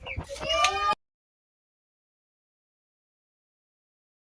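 Chickens on a poultry farm give a brief burst of close clucking, followed by silence.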